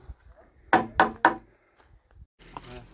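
Three firm, evenly spaced knocks land on a thick, solid wooden door, loud and close, followed by faint muffled voices in the background.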